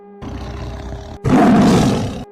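A loud roar sound effect in a horror story set at a dark factory, a low rumbling build that bursts into a harsh, close, beastly roar for about a second.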